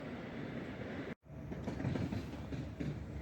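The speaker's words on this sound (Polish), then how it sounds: "to był pociąg" Train rolling through Warszawa Wschodnia station: a steady, fairly faint rail rumble with wheel clatter, broken by a momentary dropout, with no voices.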